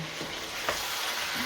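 Chicken and mixed vegetables with potato and pepper stir-frying in a pan, a steady close sizzle with a few soft scraping stirs, no voices.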